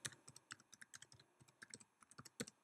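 Someone types fast on a computer keyboard, giving a steady run of close, quiet key clicks with no voices.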